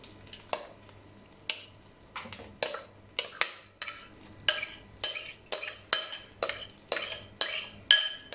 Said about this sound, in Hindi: अब इसे पैन में शामिल करते हैं।